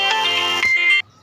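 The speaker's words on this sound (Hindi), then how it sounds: "कॉल आ रहा था, थोड़ी देर बाद बात करूँगी।" A phone ringtone from an incoming call plays a loud, bright electronic melody of repeated tones for about a second, then cuts off abruptly to near silence, close to the microphone and with no speech over it.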